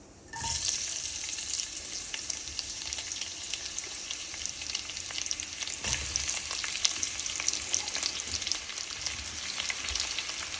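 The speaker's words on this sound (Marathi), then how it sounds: "पातळ स्लाइस करून त्याला एकदम छान ब्राऊन होईपर्यंत आपल्याला फ्राय करायचं" Mustard seeds, cumin and thinly sliced onions frying in a pan for methi chicken make a continuous close crackling sizzle with occasional stirring clatter, steady throughout and free of speech.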